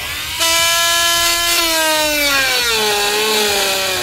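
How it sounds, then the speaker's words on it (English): Plastic front fascia on a 2018 Jeep being trimmed with a power cutting tool while fitting a tow base plate: a steady, close whining buzz runs about four seconds, its pitch sagging slightly toward the end. "Go ahead and trim that now, and you can see what it looks like when it's done."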